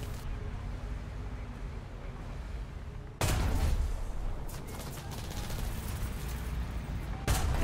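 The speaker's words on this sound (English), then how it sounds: "I'm just driving across this field, shooting whoever I see." Tank gunfire and battle noise from the War Thunder video game, a dense continuous roar with a sharp louder burst partway through and another near the end, steady and close throughout.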